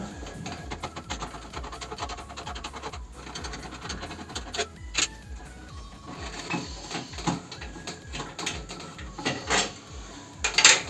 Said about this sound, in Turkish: Bunları bir tornavida yardımıyla sökmemiz gerekiyor.